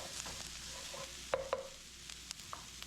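Flour cooking in a pan for a creamy chicken rigatoni sauce gives a faint, steady low sizzle, broken by a few soft scrapes and taps of a utensil stirring against the pan.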